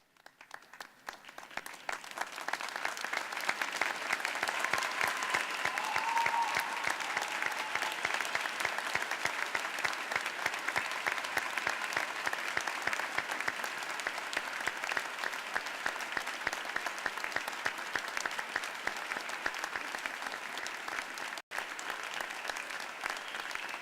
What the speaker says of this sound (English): give them the biggest round of applause